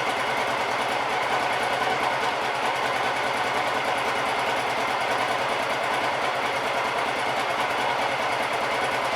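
A Honda PC-800 motorcycle engine runs steadily with cold carburetors, a dense, even drone with a fine rapid rhythmic texture and no let-up, close and fairly loud throughout.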